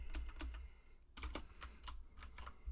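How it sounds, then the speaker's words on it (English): Keys clatter on a computer keyboard as someone enters shortcut commands while formatting a document in Google Docs, a close, irregular run of crisp taps in small bursts with a brief pause midway. "I'm doing all of this just using keyboard commands"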